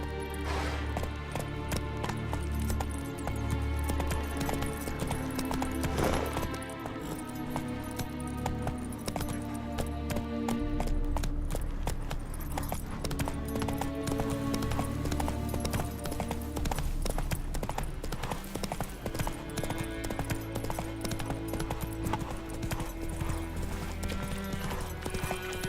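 Roach, the horse in The Witcher 3: Wild Hunt, gallops with rapid, rhythmic clip-clop hoofbeats that run continuously for a long stretch, joined by an occasional whinny and a steady in-game ambient bed.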